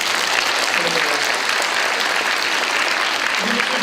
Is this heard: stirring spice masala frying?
no